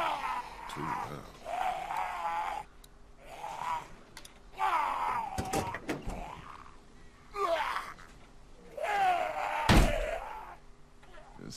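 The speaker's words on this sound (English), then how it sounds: "I need to unbuckle him and then slam his head in the door" Car doors thump shut several times in The Walking Dead video game, short heavy slams mixed with game sound effects and gasping, fairly close and spread across the scene.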